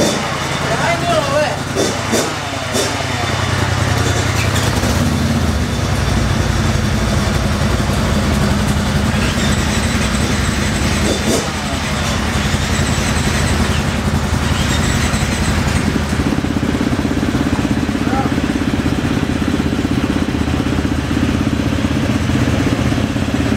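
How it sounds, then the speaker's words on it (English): Kawasaki KX two-stroke dirt bikes warming up outdoors, engines idling and revving in a steady, loud, continuous drone with rattly clatter, while people talk over it. "we're gonna warm all these bikes up right over here, get all these on too"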